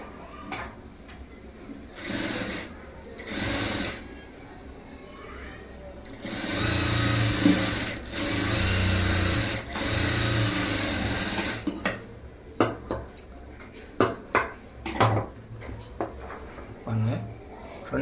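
A sewing machine top-stitching a lining blouse runs in short whirring bursts, then a longer steady stretch, then a string of sharp clicks and taps, close by and under a voice talking.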